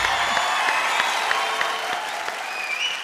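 A studio audience at a Kannada comedy show gives a guest film actress, Shruthi, a long, dense burst of applause that thins slightly toward the end, with faint crowd murmur underneath.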